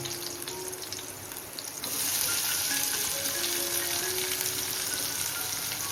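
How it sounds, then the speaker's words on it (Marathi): Wild karadu greens sauté in hot oil with a steady close sizzle that swells louder about two seconds in and then holds as a continuous bright hiss, with no talk. "तेलामध्ये मस्त परतून घ्यायचं"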